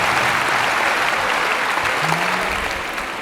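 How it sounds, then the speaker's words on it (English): An audience claps for a performer at a school nutrition association event, a dense, steady burst of applause from a sizable crowd that holds for a few seconds before starting to taper off. "Give her another round of applause."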